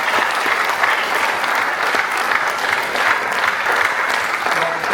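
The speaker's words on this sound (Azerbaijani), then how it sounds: "Və dostlar üçün də sizdən bir alqış xahiş edirəm." Audience at a young vocalist's solo concert applauding, a dense, even clapping from a full hall that holds steady throughout.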